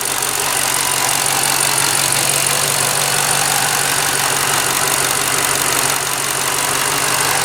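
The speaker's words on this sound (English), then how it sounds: "One of the greatest engines in all things American muscle." A 2012 Ford Mustang Shelby GT500 V8 engine idles loudly and steadily, a dense continuous roar with no change in pace and no voices.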